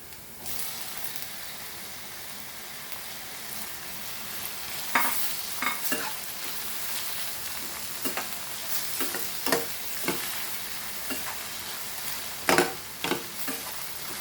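Tomatoes frying in a pan for a Goan prawn curry, with a continuous hiss of sizzling and several sharp spatula scrapes and clatters clustered toward the end, no voices.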